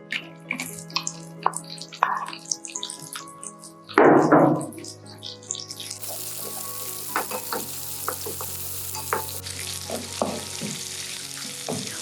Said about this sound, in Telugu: గోల్డెన్ బ్రౌన్ కలర్ వచ్చేంత వరకు ఆనియన్స్ ఫ్రై చేయాలి.